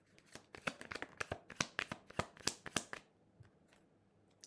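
Tarot cards are shuffled by hand in a quick run of sharp, papery riffles and slaps, close and loud for about three seconds before the shuffling stops.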